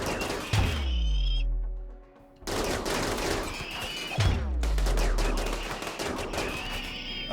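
RimWorld gunfire comes in two sharp volleys of loud, close shots with booming low tails. A brief quieter gap separates them, and the second cluster of cracks and echoes follows after it.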